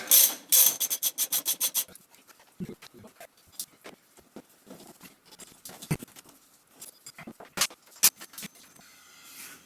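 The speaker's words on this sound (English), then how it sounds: "I've just discovered I can get through to the nut with an extension, so this side's a bit easier." A ratchet on an extension turns a nut while fitting Heed crash bars to a Ducati Multistrada 950 motorcycle, with a fast run of close clicks at the start, then scattered clicks, clanks and handling noises.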